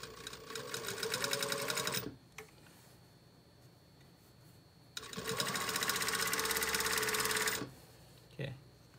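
A sewing machine stitches around a patch pocket, running in two fast, steady bursts of close mechanical whirring with a brief clack and a quiet pause between them.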